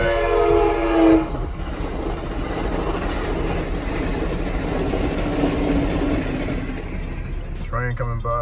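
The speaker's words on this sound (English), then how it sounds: "train coming by." A train rumbles past close by with a sustained roar, a horn blast at the start and clattering wheels, while a voice speaks briefly near the end.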